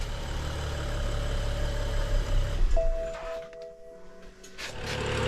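BMW N55 engine idling with a steady low hum, then shut off about halfway through; the drone cuts out, leaving a brief faint tone and quiet residual noise, close, with no talking.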